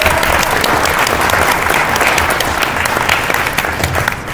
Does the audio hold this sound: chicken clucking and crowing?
no